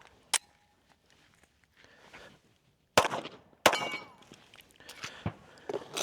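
Pistol shots from a Smith & Wesson M&P Metal firing Speer Gold Dot 124gr +P rounds at a range: a sharp crack, then two loud close reports a moment apart with ringing clatter after, no speech.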